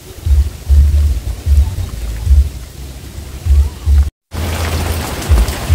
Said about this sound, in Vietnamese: Mưa tới luôn rồi.